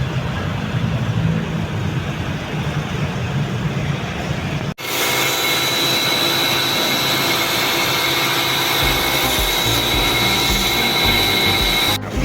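A truck's air-conditioner evaporator unit from a 2015 Isuzu NLR 130 is washed with a pressurised water spray, a steady loud hiss and rush starting abruptly after a brief quiet stretch and running continuously to the end.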